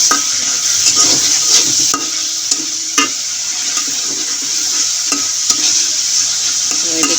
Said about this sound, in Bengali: আর আমি কালার করে রসুনটা ভেজে নেব।